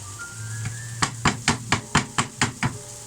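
Onions cooking in a pan, with a steady sizzle under a run of eight evenly spaced scraping knocks as a utensil stirs and taps the pan. No one speaks.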